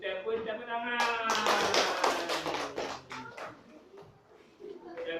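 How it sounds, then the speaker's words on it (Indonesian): Children in a classroom clap their hands together in a burst of rhythmic clapping amid kids' voices, fading out near the end. "Tepuk tangan."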